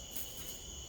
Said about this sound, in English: That's fucking King Cicada right there, son.